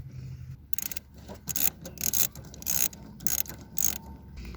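A 13mm ratchet is cranked in short, evenly spaced bursts of clicking to back bolts off the AC lines of a 2001 Jeep Grand Cherokee, close and fairly quiet.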